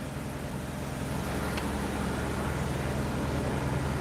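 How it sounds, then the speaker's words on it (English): A car engine rumbles steadily nearby, a low continuous drone with broadband noise and no other sounds on top. "One of the neighbors started his car."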